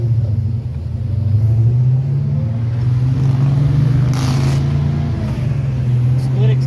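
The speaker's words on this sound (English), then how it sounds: "Split exhaust 6-cylinder." A 1937 Buick with a six-cylinder engine and split exhaust goes by, giving a steady, deep, throaty rumble that holds fairly loud and even throughout.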